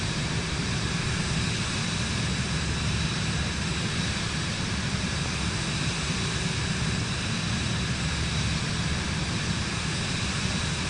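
A steady, loud, unbroken engine drone fills the cockpit of a plane cruising in Microsoft Flight Simulator 2024 on PS5, broadband and constant with no talking.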